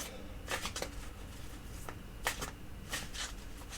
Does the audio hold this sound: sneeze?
no